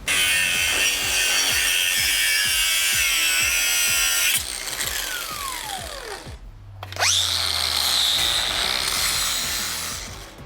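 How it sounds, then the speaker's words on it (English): Angle grinder cutting into BMW E46 body metal for handbrake clearance on a turbo drift car build, a loud continuous grinding with rhythmic scraping, then the motor winding down and spinning back up for another cut. "Grinder."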